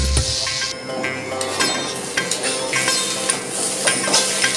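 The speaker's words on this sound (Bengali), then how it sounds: "এবার আমি আস্তে আস্তে আঁচটা কম করে দিয়ে আস্তে আস্তে করে আর একটু ভাজবো" Potatoes and bitter gourd frying in an iron wok over lowered heat, a steady sizzle broken by frequent scraping stirs and light metallic clinks of a spatula against the pan.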